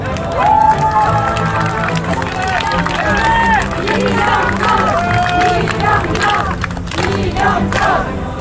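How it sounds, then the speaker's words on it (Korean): Applause and cheering from a crowd at a Korean political party's election campaign launch rally, a sustained noisy mass of clapping and shouts mixed with amplified speech from a loudspeaker. "힘찬 박수로 격려 부탁드리겠습니다"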